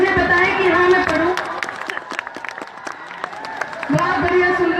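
Audience applause at a mushaira poetry gathering in Araria, a crowd clapping loudly and continuously with scattered cheers, fading slightly midway and then rising again as people speak over it.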